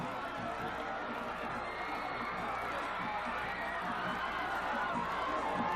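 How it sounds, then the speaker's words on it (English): Sideline crowd at a 1994 high school boys' state soccer championship in Colorado, a steady, distant murmur of voices and shouts holding at an even level throughout. "The crowd just isn't letting up here."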